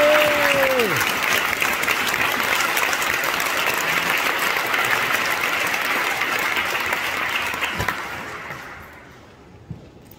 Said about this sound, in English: a round of applause for our wonderful staff